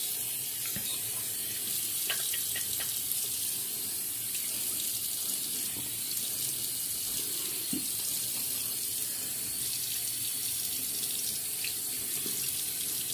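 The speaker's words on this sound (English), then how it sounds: "Now I just gotta rinse my face off, dry it off" Tap water runs steadily into a sink, a continuous hiss and splash with occasional small splashes from rinsing, close by and uninterrupted.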